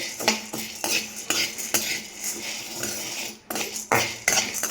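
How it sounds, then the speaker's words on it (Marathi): Chana dal dry-roasting in a pan, with a spoon scraping and clinking against the metal in quick, uneven strokes close by and a faint rattle of the lentils between strokes, no voices. "चणा डाळ सुद्धा आपल्याला हलकी होईपर्यंत भाजून घ्यायची आहे, म्हणजे मस्तपैकी अशी कडक वाजेल"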